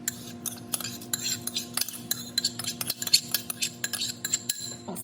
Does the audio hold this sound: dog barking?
no